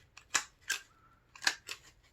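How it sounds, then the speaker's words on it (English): A handheld stapler pressing through tulle and crepe paper on a rosette, giving four crisp, close mechanical clacks in two quick pairs, with no talking. "Again, you're going to come in with your stapler."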